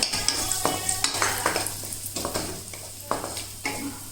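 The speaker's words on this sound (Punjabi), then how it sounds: "ਇਸੇ ਘਿਓ 'ਚ ਆਪਾਂ ਕਿਸ਼ਮਿਸ਼ ਰੋਸਟ ਕਰਾਂਗੇ" Raisins roast in hot ghee after cashews and almonds, with a steady sizzle under repeated scraping and stirring strokes of a spoon against the pan, close up and fairly even in rhythm.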